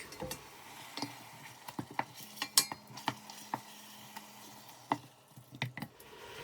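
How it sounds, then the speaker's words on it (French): Pieces of lamb neck brown in olive oil in a pot, giving a faint sizzle broken by scattered metallic clinks and taps from a utensil against the pot. "Et je fais bien revenir mes morceaux donc, de collier d'agneau dans l'huile d'olive."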